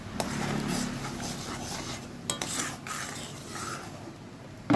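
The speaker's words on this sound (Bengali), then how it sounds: "এবার মশলাটাকে ভালো করে কষিয়ে নিচ্ছি" Spice paste seasoned with salt, turmeric and sugar is stirred and fried in a pan, giving a continuous close scraping and sizzling sound with a few sharper knocks of the utensil partway through.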